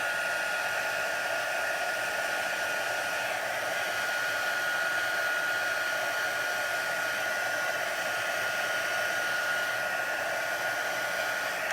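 A heat tool melting embossing powder on a card gives a loud, constant blowing roar that runs unbroken from start to finish with no talk.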